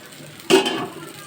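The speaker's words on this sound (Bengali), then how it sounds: "কুমড়া বড়া ভাজা হয়ে গেল।" Ash gourd fritters with sesame fry in oil, a low steady frying hiss broken by one short, louder burst of sizzle and clatter halfway through, close up and without talk.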